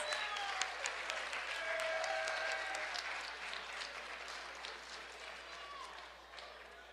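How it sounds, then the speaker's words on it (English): A crowd at a high school football banquet claps steadily for several seconds, a dense patter of applause with a few voices underneath, gradually tapering off. "A round of applause."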